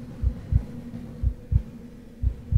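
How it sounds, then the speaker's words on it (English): A muffled heartbeat in the SCP-087 horror game thuds low and steady in paired beats, about three double-thumps over a quiet hum, with no speech. "There goes my heartbeat again."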